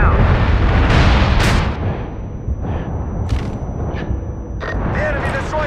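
Heavy bomber explosions rumble through a MAG battlefield on PlayStation 3, a run of deep booms and sharp bursts that rise and fade in close succession over continuous rumbling combat noise.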